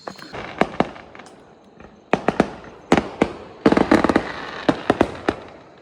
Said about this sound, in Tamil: ஸோ இப்போ பட்டாசு அடிச்சிச்சு பார்த்தீங்களா